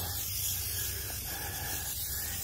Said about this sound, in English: you spray this up in your wheel wells